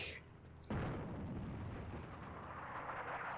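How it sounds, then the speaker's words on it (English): An airstrike lands in the North Africa tank battle game Attack at Dawn, a sudden heavy blast that bursts in abruptly and leaves a long, rumbling roar of sustained explosions rolling on afterward. "We have an airstrike."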